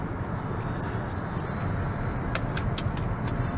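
A 2023 Kia Sportage Hybrid accelerating out of a corner, a loud steady rush of road and wind noise with a low engine drone, heard from inside the cabin.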